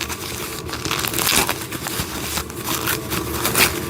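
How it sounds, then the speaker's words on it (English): Plastic wrapping crinkles and tears as wooden train set pieces are unwrapped, a steady close-up rustling that swells in bursts over a few seconds, with no voices. "Let's unwrap this."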